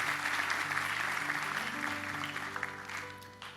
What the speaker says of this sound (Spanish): den un aplauso al Señor por su palabra